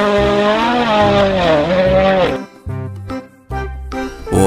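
Electronic engine rev from a toy race car swells loud and wavering for about two seconds, then breaks into short choppy bursts with brief gaps.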